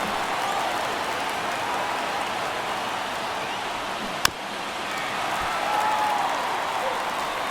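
Steady roar of a stadium crowd in MLB The Show 23 during a San Francisco at LA Dodgers game, a continuous wash of cheering with one sharp crack midway and a slight swell near the end.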